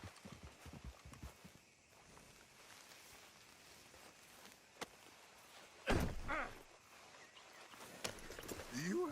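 Horse hooves clip-clop in Red Dead Redemption 2 as a steady run of faint, quick footfalls under game ambience, with a few louder thuds toward the end and no talking.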